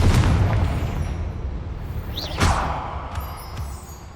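A Confringo fire spell explodes in Hogwarts Legacy, a sharp burst with a rising whoosh about halfway through, over a dense, rumbling game soundscape that fades toward the end.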